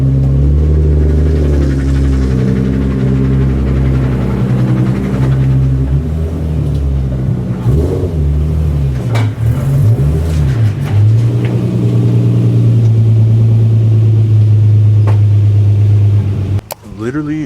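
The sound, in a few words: Nissan 350z driving into the driveway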